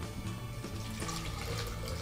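Water pours steadily into a flavored water jug, a continuous splashing gush at moderate level with no voices over it.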